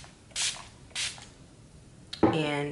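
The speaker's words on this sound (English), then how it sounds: "I gotta do my finishing spray" Two short hissing spritzes from a Skindinavia makeup setting spray bottle, close and quiet, followed by a person starting to talk.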